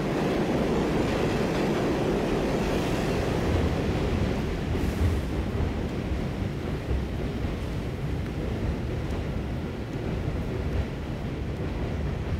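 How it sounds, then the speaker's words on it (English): An uptown New York City subway 6 train heading to the Bronx rumbles along inside the car, a constant loud roar of wheels and motors with no talking. "So now we're on the 6th train, we're headed uptown to the Bronx."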